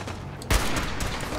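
Gunfire in the video game Fallout 4 comes as a dense, rapid burst of shots with a heavy thump at the start, a rough continuous rattle filling the short stretch.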